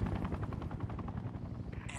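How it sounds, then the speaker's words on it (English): An enemy helicopter in the video game Sniper Ghost Warrior 2 makes a steady, rapid rotor thumping, loud and continuous, with a voice briefly heard over it. "Enemy chopper!"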